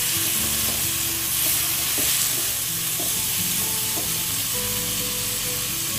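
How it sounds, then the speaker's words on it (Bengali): Potatoes and spice masala fry and sizzle steadily in a covered pan for a vegetarian banana-blossom dhoka dalna, with occasional stirring scrapes over a constant close hiss. "আমরা ঢাকা দিয়ে এবার মশলাটা ভাজার চেষ্টা করছি, আলু আর মশলা একসঙ্গে।"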